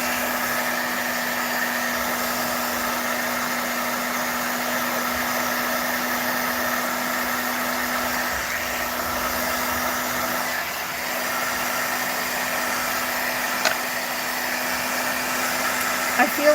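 An aging embossing heat gun runs continuously in a craft setting, a loud, steady blowing drone with a constant hum that holds for the full length, with a faint voice now and then underneath.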